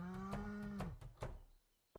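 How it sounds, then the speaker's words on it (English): A cow moos in the Stardew Valley farming game, a long drawn-out low call lasting over a second, followed by quieter game sounds and a short sharp blip near the end. "I can't talk to this cow"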